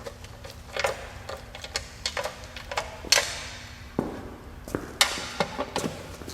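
Oil pan bolts are tightened on a 2001 GMC Sonoma 2.2L engine, giving a close series of quick metallic ratchet clicks and ticks in short irregular bursts, with brief pauses between them.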